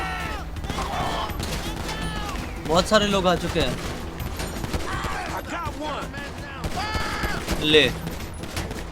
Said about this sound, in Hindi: और कहां से गोली चल रही है?